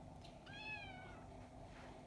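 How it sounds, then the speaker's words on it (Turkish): A house cat gives a single clear, drawn-out meow at close range, rising then falling, over a steady low background hum with no talking. "Bizim kedimiz var."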